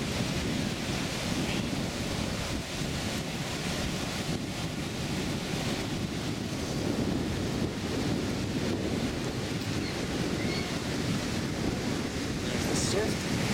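Ocean surf rolling onto Playa Potrero beach in Costa Rica in December, a steady loud wash of breaking waves mixed with wind buffeting the microphone, continuous with no talking.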